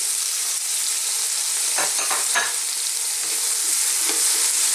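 Crab and misua sizzle steadily in a hot cooking pan, with a few scraping stir strokes clustered near the middle over a constant frying hiss; no one speaks.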